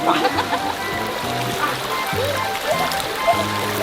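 Water flowing and trickling over stones in a natural mountain stream near a waterfall in Korea, steady and close, with people's voices and some background noise mixed in.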